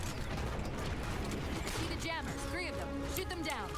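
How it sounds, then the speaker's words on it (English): Sliding doors in Halo 4's Forerunner level close with mechanical whirs and clanks, buried in thick game sound, with bright sweeping synthetic tones rising near the end. "All the doors just keep closing in front of me"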